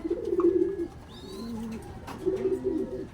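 A pigeon coos in soft, low, rolling phrases, three bursts with short pauses between, close by, with a faint higher chirp in the background.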